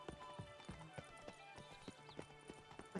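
Horse hooves clip-clop in a steady, fairly quick rhythm over a game soundscape in The Witcher 3: Blood and Wine, with a faint whinny and low background music beneath the repeated hoof strikes.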